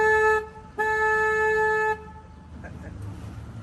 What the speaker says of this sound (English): So for safety purposes now, I'll be honking my horn.